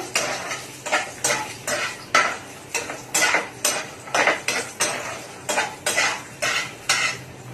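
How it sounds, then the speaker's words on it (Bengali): Bori lentil dumplings fry with cumin in a pan, a metal spatula scraping and clinking against it in a brisk, regular rhythm over a faint sizzle. "বড়িগুলো একটু লাল লাল করে ভেজে নেব,"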